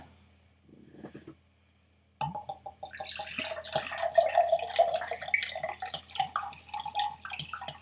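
Water is poured into an empty Lagavulin 8 whisky bottle, a close, gurgling, bubbling stream after a brief quiet start, rising in pitch as the glass fills.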